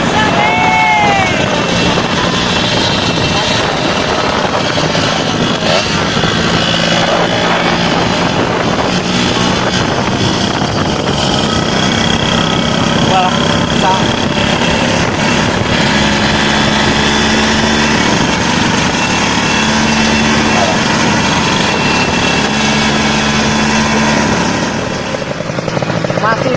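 A Kawasaki Ninja R motorcycle fitted with a bamboo racing exhaust roars loudly and continuously, its engine drone steady throughout with wind buffeting the microphone and faint voices underneath.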